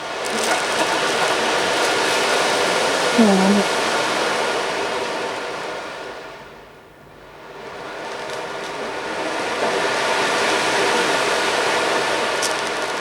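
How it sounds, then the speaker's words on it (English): An ocean-wave instrument played during a sound bath sends a long rushing wash of noise that swells, fades almost to nothing midway, then surges back up again. "That is the sound of the ocean."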